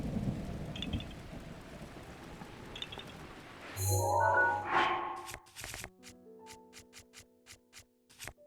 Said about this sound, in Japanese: 雨降っちゃった。